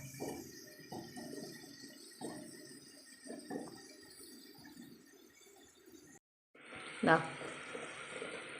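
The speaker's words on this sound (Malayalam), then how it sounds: "അര ഗ്ലാസ് വെള്ളം ഇതിൻ്റെ അകത്തേക്ക് ഒഴിച്ചു കൊടുക്കാം" Half a glass of water pours into an egg curry pan, a brief rushing splash with a bright gurgle and sizzle near the end, following a stretch where someone talks over low kitchen noise.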